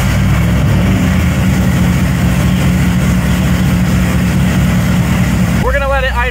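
An old Ford Mustang's engine runs loud and close in a garage. A deep, steady rumble fills the space, and near the end a voice speaks over it.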